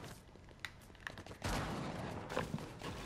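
Gunfire in the video game Fortnite, Chapter 5 Season 2, including sniper rifle shots: several sharp reports at mid distance, with a heavier burst about halfway through and steady game ambience between them.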